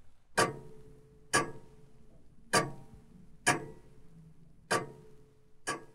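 A pendulum clock ticks in a slow, even beat, six sharp clicks about one second apart, each with a brief ringing tail, close and clear over a quiet background.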